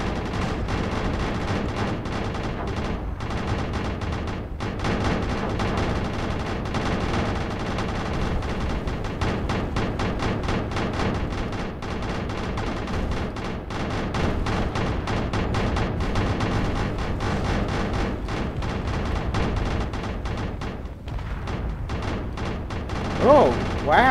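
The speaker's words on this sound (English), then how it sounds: "Fire all cannons at once! Knock out that little ship of theirs!" Ship cannons in the space game Space Engineers fire in rapid, dense volleys of booming shots that continue almost without pause for a long stretch, loud and heavy.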